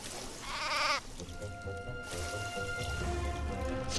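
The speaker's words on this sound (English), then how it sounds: "Let's kill that sheep." A sheep in Craft The World bleats once, a short wavering cry over a soft game backdrop of rain-like patter and low ambient music, with no talk.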